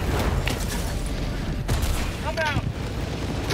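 Rapid bursts of gunfire aimed at a bug nest in the Helldivers 2 video game, loud dense volleys of shots with rumbling impacts, a brief whistling tone partway through.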